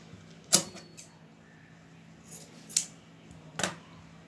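Scissors cutting a small square of cloth for a handmade washable pad, with three sharp snips spaced apart, the first loudest, in a quiet room.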